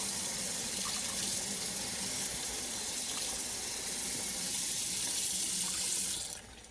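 A cold-water tap runs steadily into a sink for rinsing, a continuous splashing rush of water that cuts off abruptly at the end.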